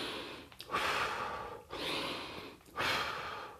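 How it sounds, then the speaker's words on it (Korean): Three deliberate breathing cycles, each a soft inhale through the nose followed by a longer, airy exhale through the mouth, close and steady with brief pauses between, demonstrating a paced exercise breathing technique. "코로 숨을 마시고 입으로 뱉는"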